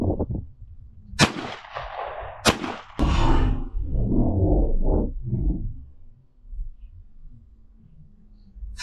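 A shotgun fires at clay targets outdoors, with loud, sharp, close blasts that ring out and are followed by a rumbling tail and muffled noise.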